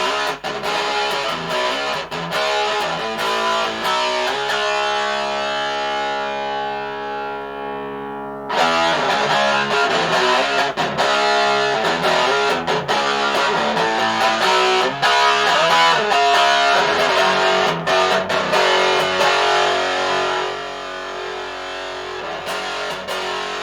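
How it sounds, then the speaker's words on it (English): Thick, saturated fuzz guitar through a Temu fuzz pedal playing chords continuously, a sustained ringing chord fading before a loud strum kicks the riff back in. "guitar sound is fuzz it's not so much distortion like the albums on the light"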